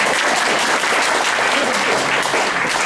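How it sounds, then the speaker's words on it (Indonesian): An audience at a motivational talk claps together, a loud, dense, continuous round of applause filling the room with no break. "Tepuk tangan dulu dong."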